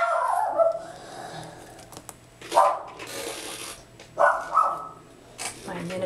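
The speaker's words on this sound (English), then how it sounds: "My miniature schnauzer barking at nothing." A miniature schnauzer barks in several sharp bursts spaced a second or two apart, fairly close and loud, indoors with light crafting noises between the barks.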